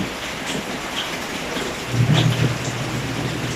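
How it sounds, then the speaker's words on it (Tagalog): Heavy rain pours steadily in a continuous hiss, with a brief low rumble swelling in the middle. "ang lakas na naman ng ulan"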